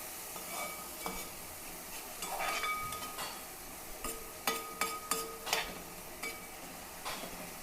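Onions, green chili and ginger sautéing in a small pan, a steady sizzle broken by a run of sharp scraping and clinking stirs from a utensil, close and fairly quiet.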